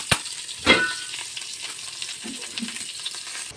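Hilsa fish cooks in a covered pan with salt, a steady close sizzle and bubbling with a couple of sharper clatters early on and no voices.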